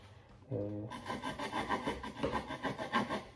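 A hand saw rasps through wood in quick, regular back-and-forth strokes, close and steady, after a brief hum at the start.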